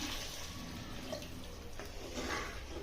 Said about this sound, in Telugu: ఇదిగోండి నీళ్ళు వాటర్ యాడ్ చేసుకుంటున్నాను